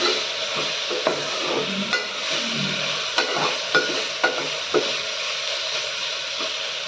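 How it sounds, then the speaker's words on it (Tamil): Homemade chili powder is stirred into sambar in a pan over a steady background sizzle, with a spoon scraping and knocking against the metal every second or so. "இப்போ இதை நல்லா மிக்ஸ் பண்ணி விட்டுக்கலாம்."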